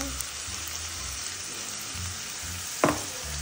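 Ground beef fries in a pan with garlic powder and black pepper, giving a steady close sizzle with soft stirring and one sharp utensil clack near the end.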